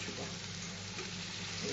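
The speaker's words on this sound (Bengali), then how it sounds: "এবার আমি চিংড়িগুলো দিয়ে দেবো কিছুটা।" Prawns frying in a pan with pumpkin for a Bengali curry, a steady dense sizzle heard up close but faintly, unbroken for a brief moment.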